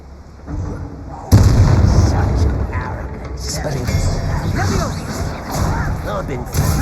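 Spell impacts in Hogwarts Legacy strike a window with a sharp burst and crackling bangs, followed by rolling magical blasts and clashes, with people talking over the combat.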